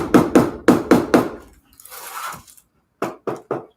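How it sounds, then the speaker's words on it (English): Sharp hammer taps pressing a glued embellishment into place on a handmade junk journal, a quick cluster of close knocks, a brief rustle, then three more taps. "So I kind of hammer it in to put it in place because sometimes it can go on a little crooked."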